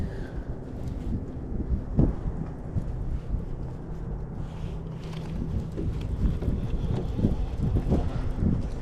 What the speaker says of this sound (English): Man, this wind is picking up.